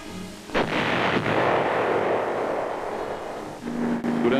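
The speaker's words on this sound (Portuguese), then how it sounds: "Tanques mantinham estradas abertas em pontos estratégicos, atirando para desequilibrar o inimigo." Armored cavalry tanks firing their guns during the Vietnam War, 1969, a heavy booming blast followed by long rolling rumble and a second sharp report, loud and close with no voices.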